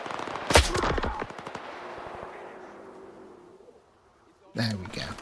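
Assault rifle fire in S.T.A.L.K.E.R. 2: Heart of Chornobyl, a sharp rapid burst up close, then a long fading echo across open ground, followed by another short loud burst.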